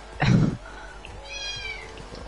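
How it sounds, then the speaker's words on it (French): A cat meows once, close and fairly loud, with a few fainter chirpy tones trailing after over a quiet room background during a Rocket League stream. "je l'entends d'ici ton chat"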